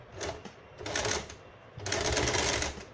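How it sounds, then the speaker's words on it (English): A sewing machine running a zigzag stitch while making a casual shirt, close rapid mechanical clatter in two bursts separated by a brief quieter pause. "So for that I'm using a zigzag stitch"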